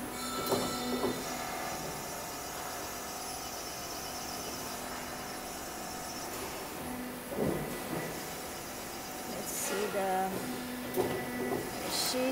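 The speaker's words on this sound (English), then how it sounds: "And now embossing." Standing seam panel roll-forming machine embossing metal sheet: a continuous mechanical drone with tonal whine, punctuated by a few clanks and metallic squeals, while a voice speaks faintly in the background.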